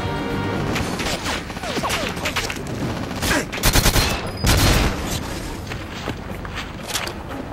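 Bursts of rapid gunfire in Goldeneye 007 on the Wii, sharp repeated shots clustering into loud volleys around the middle, with a player talking at times between them.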